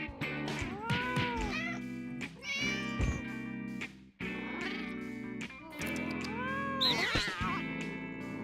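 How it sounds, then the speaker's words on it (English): Cat meowing in the video game No More Heroes 2, a string of drawn-out, rising and falling meows repeating over a steady musical backdrop, loud and close. "After every horrible murder, you gotta play with your cat."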